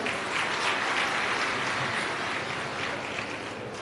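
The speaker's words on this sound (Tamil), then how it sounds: "அதுக்கே ஒரு கைத்தட்டல் கொடுத்துடலாம்" A crowd at a Tamil-language talk gives a round of applause, a steady, moderately distant wash of clapping that carries evenly through the whole stretch with no voices over it.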